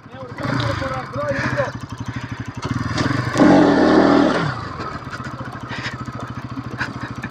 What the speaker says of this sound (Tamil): சவுண்டு கேளுங்க, BS7 சவுண்டு. இதுதான் BS7ஓட சவுண்டு.